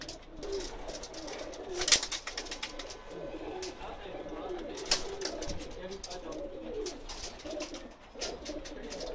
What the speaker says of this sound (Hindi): अभी मैं आपको उस्ताद जवेद साहब के स्पेशल कबूतर दिखाने जा रहा हूँ।